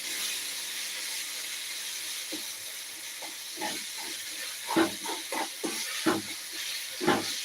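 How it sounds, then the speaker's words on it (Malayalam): Tamarind water and asafoetida hitting a hot pan while making rasam to go with fried mackerel, giving a steady hissing sizzle with several sharper bursts of spitting and crackle toward the end. "കായം പുളിവെള്ളവും നമുക്ക് ചേർത്ത് കൊടുത്ത്"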